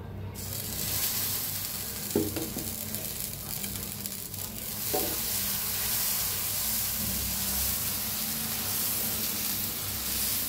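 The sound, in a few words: moong dal dosa roasting on a pan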